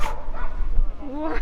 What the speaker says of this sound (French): les chiens de traîneau